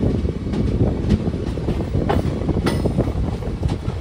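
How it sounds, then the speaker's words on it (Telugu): The Guntur Express passenger train runs fast on the rails, heard from inside as a loud, continuous rumble with rhythmic clickety-clack wheel beats and wind buffeting over the top. "స్పీడ్ మాత్రం చితక్కొట్టేస్తున్నాడు మా ట్రైన్ డ్రైవరు"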